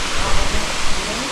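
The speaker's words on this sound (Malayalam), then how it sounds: "ഇങ്ങനെ വെള്ളം ഒഴുകുന്നുണ്ട് കേട്ടോ. എവിടെയും തടസ്സമൊന്നുമില്ല." Water runs along a wet trail near natural waterfalls at a homestay by Kuttikkanam, giving a loud, steady broadband rush that fills the short stretch without a break.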